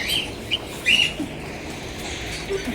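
A pet bird gives a few short, high chirps, scattered and moderately close over a quiet room background.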